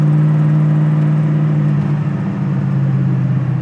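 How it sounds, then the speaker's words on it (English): Deep, throaty engine of a 1969 Camaro restomod rumbling loudly and steadily nearby at about 4,500 RPM, with a low exhaust drone throughout and no talking. "that exhaust just sounds so cool"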